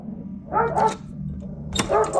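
A dog barks a few times in quick, sharp bursts, fairly close, with brief pauses between the barks.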